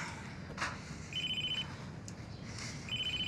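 A telephone rings in two short electronic bursts with a gap between, moderately close, against a low background hum, with no one talking.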